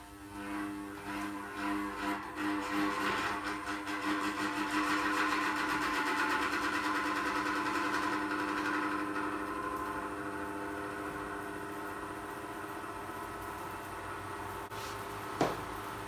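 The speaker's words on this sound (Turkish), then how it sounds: "Vantilatörümü çalıştıracağım" Small electric fan powered by energy stored from a hand-cranked generator, humming steadily with a buzzing mechanical drone that rises as it spins up and then holds even, with one sharp click near the end.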